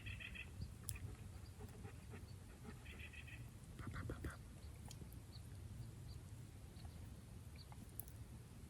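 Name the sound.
birds calling in the woods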